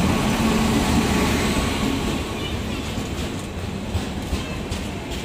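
A passenger train bound for Chennai rumbles along with a loud, steady rolling roar and faint rhythmic rail clatter, heard from on board with no clear speech.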